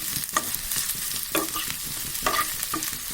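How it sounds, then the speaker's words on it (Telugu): Ingredients for a pachadi fry in a tablespoon of hot oil, with a continuous loud sizzle broken by repeated scraping stirs of a spoon against the pan, close and with no speech. "ఒక టేబుల్ స్పూన్ ఆయిల్, కొంచెం వేడెక్కాక ఇలా చక్కగా వేయించుకోవాలి."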